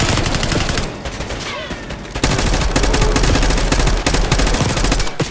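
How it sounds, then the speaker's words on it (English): Rapid gunfire in the video game Call of Duty: Black Ops 6, loud, dense bursts of automatic shots that briefly ease off, then resume heavily over a thick battle din. "Now, open fire."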